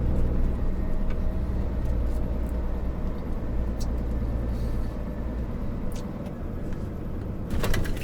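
A heavy long-haul truck pulls out onto the road, its engine a steady low rumble throughout with faint rattles and clicks from the cab, close and continuous without talk.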